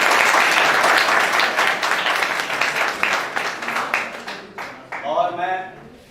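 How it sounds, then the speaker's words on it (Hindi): An audience at a coaching class farewell party breaks into loud, sustained applause that slowly fades, with a voice speaking over the tail end. "एक बार जोरदार तालियां होनी चाहिए"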